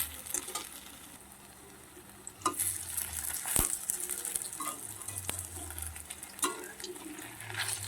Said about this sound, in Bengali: এই বড়াগুলো আমার ভাজা হয়ে গেছে আলুর